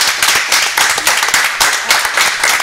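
Brief, lively applause greets a guest arriving on stage at a contest event, a close burst of rhythmic clapping with regular accents over a few seconds.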